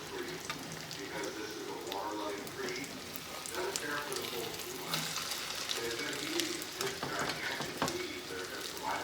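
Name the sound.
cornmeal-coated fish frying and splattering in a pan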